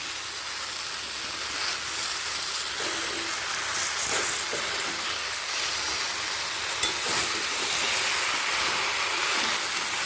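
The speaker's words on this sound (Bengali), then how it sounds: "পুঁই শাকটা সবজির সাথে ভালো করে মিশিয়ে নেব" Malabar spinach (pui shak) being stirred with vegetables in a hot frying pan, with a steady close sizzle of frying oil and faint scraping from the stirring throughout. No talking.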